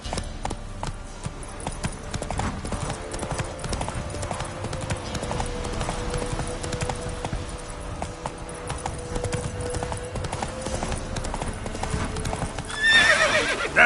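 Roach the horse gallops in The Witcher 3 on PS5, a steady, close run of hoofbeats and clip-clop that continues without a break, with a short burst of louder noise right at the end.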